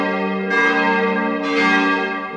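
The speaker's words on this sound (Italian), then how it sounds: "Io avevo pensato alla voce delle campane." Church bells of Asola ring out in two resonant strikes with long overlapping sustain, loud and rich with no voices.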